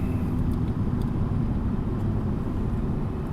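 Car interior while driving, a steady loud low engine and road rumble with constant tyre noise, continuous and even with no talking.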